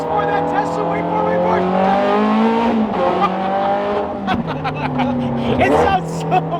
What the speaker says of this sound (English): This acceleration right here is for that Tesla